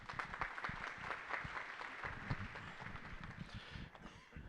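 A group gathered at a new-family orientation applauds in a faint, steady patter of many hands clapping, heard from a distance with no talking.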